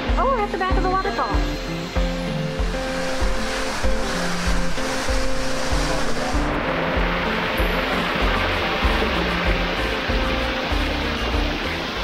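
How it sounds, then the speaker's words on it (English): A loud, continuous roar of rushing falling water from behind a waterfall at Gardens by the Bay, Singapore, fills the whole clip, with a voice speaking briefly at the start and music faintly underneath. "Oh, we're at the back of the waterfall."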